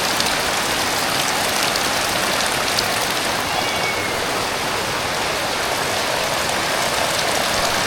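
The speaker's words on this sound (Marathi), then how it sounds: "पावसाला जोरात वाढला आहे" Heavy monsoon rain pours down in a dense, constant roar, loud and close, with a faint low engine hum beneath it.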